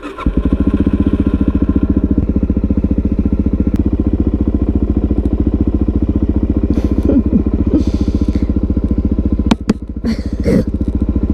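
A motorcycle engine running steadily at close range while warming up for a ride around a neighborhood, a continuous rhythmic thrum with a few sharp clicks and knocks near the end, no talking.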